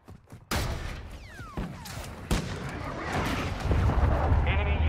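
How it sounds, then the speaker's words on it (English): Heavy explosive booms and rumbling blasts from a cruise missile strike in the Modern Warfare II video game, with whistling descending tones, repeated impacts and a dense, loud battlefield wash building toward the end. "Hostile cruise missile incoming."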